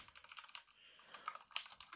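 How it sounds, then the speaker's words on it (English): Quick, light typing on a computer keyboard while writing discord.js code, a soft run of close key clicks with brief gaps, quiet and without talk. "let's just type this out"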